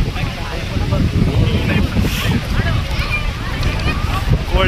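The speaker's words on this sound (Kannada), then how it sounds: "ಎಷ್ಟು ಗಾಳಿ ಬೀಸ್ತಾ ಇದೆ, ಫುಲ್ ಕೋಲ್ಡ್ ಇದೆ" Strong, cold wind blowing across the top of Himavad Gopalaswamy hill, a steady broadband roar buffeting the microphone throughout, with faint voices and crowd noise mixed in.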